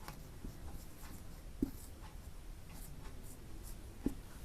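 A pen writing equations on paper in a maths lesson, producing soft, continuous scratchy strokes with two small taps, faint and close against a steady background hiss.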